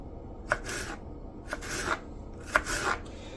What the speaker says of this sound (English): I'm kind of doing this, cutting this onion from the side